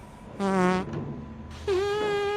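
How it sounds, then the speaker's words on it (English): Two drawn-out flatulent blasts from a man with an upset stomach, the first short and buzzing, the second longer and rising in pitch, loud and close with a brief gap between them. "Are you talking to us or the fart?"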